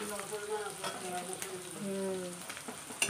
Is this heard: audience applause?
no